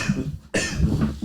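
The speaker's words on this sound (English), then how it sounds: "Stop coughing in my drink" Someone coughs up close a couple of times, with short harsh bursts and a brief pause between them.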